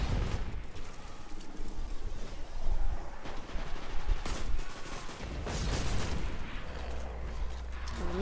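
Sniper-clearing gunfire in Destiny 2 Season of Arrivals, heard as quiet, distant-sounding shots and rumbling bursts scattered through a muffled game soundscape, fairly faint overall.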